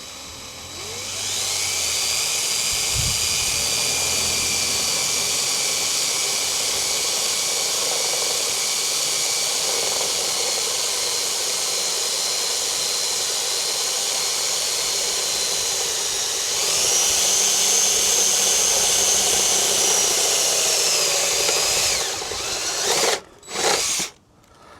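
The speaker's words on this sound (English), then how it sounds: "I've got to drill these holes. A 5mm drill bit in here." A power drill fitted with a 5mm bit bores awning mounting holes on a VW Crafter, a loud, close, continuous whir held for over twenty seconds with a slight pitch rise near the end before it cuts off.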